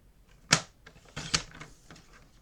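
Paper being cut for a scrapbook album page: two crisp snips about a second apart, close and fairly loud, followed by faint rustling.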